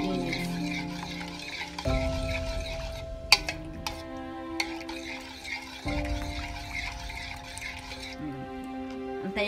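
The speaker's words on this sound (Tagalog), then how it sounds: "Pakuluin po natin siya hanggang sa maging medyo malapot-lapot siya kunti." White cream sauce for macaroni bubbling and sizzling in a pot, a steady close simmer with faint stirring scrapes beneath background music.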